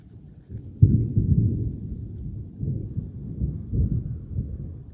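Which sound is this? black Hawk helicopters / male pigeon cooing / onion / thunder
thunder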